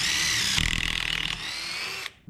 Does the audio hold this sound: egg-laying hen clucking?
no